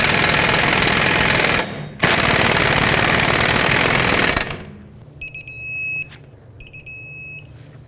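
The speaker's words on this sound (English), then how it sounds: "Let's snug these up and then torque them to 133 foot-pounds." An impact wrench snugs nuts on a 2005–2009 Chevy Equinox front lower ball joint, a loud continuous rattling burst with a brief pause, then short electronic beeps, likely from a torque wrench.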